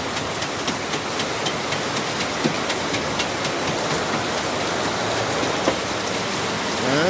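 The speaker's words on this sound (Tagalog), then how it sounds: "ang lakas ng ulan dito sa amin." Heavy rain pours steadily in a dense, even hiss with scattered drips and taps on surfaces, loud and close throughout with no talking.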